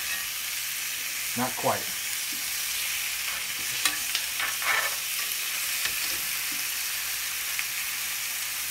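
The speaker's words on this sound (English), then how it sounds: "Things are starting to sear." Taco meat sears in a hot pan, a steady bright sizzle with occasional scraping stirs, while a voice briefly speaks over it.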